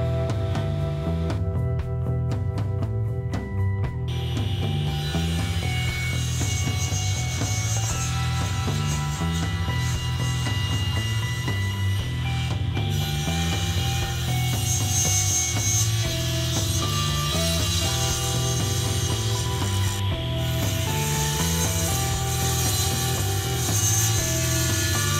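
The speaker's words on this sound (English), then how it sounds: "Before I resaw these boards at the bandsaw, I always like to flatten one face first, and I'm going to do that at the joiner." A woodworking jointer flattens the face of a board before resawing, giving a loud, continuous machine drone with a steady cutting roar that holds throughout, with no voices.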